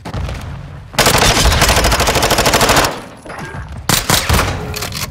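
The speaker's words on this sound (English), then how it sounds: "Guy needed his little one-shot shotgun to kill me" Gunfire in the Call of Duty: Modern Warfare III video game: loud, close bursts of rapid automatic fire, a sustained volley followed by a pause and a shorter second burst, with no talking.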